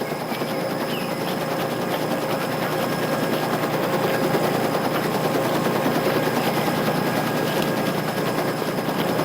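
A military helicopter at a landing zone in a 1978 early Vietnam War film gives off a dense, loud, steady rotor roar that mixes with rapid, crackling gunfire, continuous throughout with no talking.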